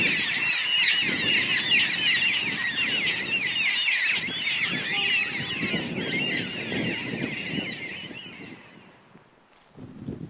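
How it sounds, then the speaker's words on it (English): A dense chorus of many birds chirping and calling continuously in a conservation park, fairly close, with low rustling and wind beneath before the calls thin out near the end. "There are birds in the trees and on the ground."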